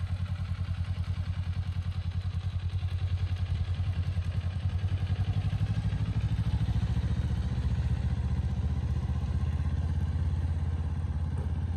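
Motorcycle engine running steadily while a beginner learns to ride, a continuous rumbling idle with fast mechanical pulsing and chain clatter, close by and unbroken throughout.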